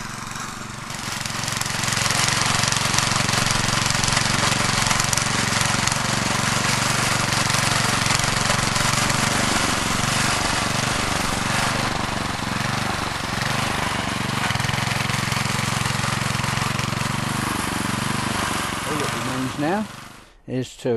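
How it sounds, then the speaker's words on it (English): A rotovator engine tilling a garden bed runs loud and steady nearby, a continuous throbbing mechanical drone that holds for the whole stretch and cuts out abruptly at the end. "the advantage of that type of rotovator also is that you can have a forward and reverse gear"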